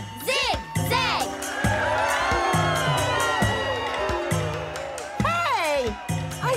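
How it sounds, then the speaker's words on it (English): A crowd of children cheers and whoops through the scene, with bright overlapping shouts under a steady musical backing, louder bursts at the start and near the end. "Hey! I think they're cheering for us."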